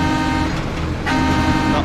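A truck horn in the SnowRunner off-road driving game sounds in a loud, sustained blast near a sawmill, over a steady engine rumble.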